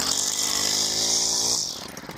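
Small two-stroke weedeater string trimmer engine, cold morning on half choke, running loud and close with a buzzing high whine, then dropping off and sputtering near the end.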